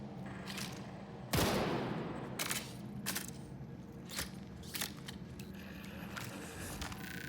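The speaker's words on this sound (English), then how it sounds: "Like an energy pistol." An energy pistol fires in the video game Marathon with a burst of sharp, punchy shots, one big blast followed by several lighter spaced reports that each ring out and decay, with no talking.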